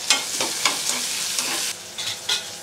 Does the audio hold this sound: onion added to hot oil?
yes